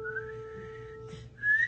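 A person whistles a clear, sustained musical note during a voice lesson, holding it steady and then breaking off. A brief breathy sound follows before a second, higher whistled note begins, close and fairly soft.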